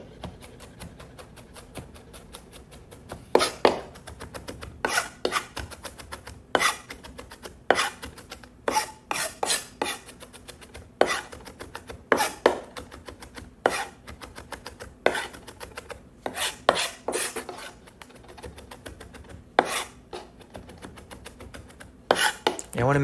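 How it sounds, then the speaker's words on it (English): A knife chops and minces garlic on a cutting board for tomato bruschetta, a long run of sharp, close, irregular taps and scraping rasps, loud and unaccompanied by talk. "Just chop up our garlic here."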